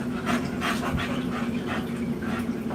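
A dog pants rapidly and steadily up close, quick rhythmic breaths with a faint whimper, alone without talk.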